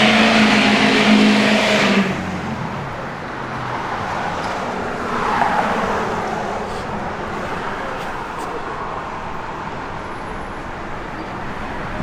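A 1966 Chevrolet C10 pickup with a 454 big-block V8 drives along the road, its engine rumble loud at first, then fading into a steady, more distant road noise with a brief swell midway.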